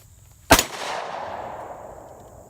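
A Rock Island 1911 10mm pistol fires one loud, sharp shot close up, and a long reverberating tail fades out over the next two seconds.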